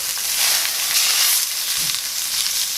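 New York strip steaks sizzling hard in a hot cast iron pan just after being flipped, a steady, loud, close frying hiss with faint crackles and no pause.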